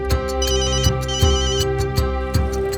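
A mobile phone ringtone plays loud and close, a repeating electronic melody with regular rhythmic beats and sustained tones throughout, no voices.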